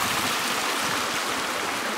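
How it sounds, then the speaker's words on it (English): A clear stream running over bright white rocks on a shaded hiking trail, a steady, close, full rush of water with no pauses and no voices. "just this beautiful running water with these like bright white rocks over there"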